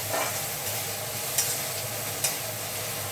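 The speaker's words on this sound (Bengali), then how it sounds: "মশলাটাকে ভাজছি ভালো করে।" Ground spices with turmeric and coriander powder fry in a pan while being stirred, a steady close sizzle broken by two brief scraping clinks.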